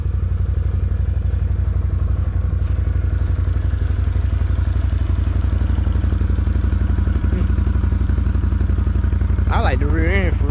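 A 2021 Can-Am Renegade 570 XMR ATV with dual exhaust rumbles steadily while being ridden, its engine a loud continuous drone throughout, with a brief voice near the end.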